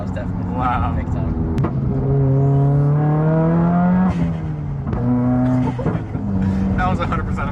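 A Subaru WRX engine rises and falls through several revs, with abrupt exhaust pops and cracks when the throttle closes. It is heard close from inside the car while people talk excitedly over it.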